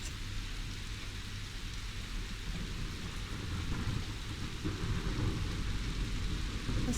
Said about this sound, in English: I like the rain effect.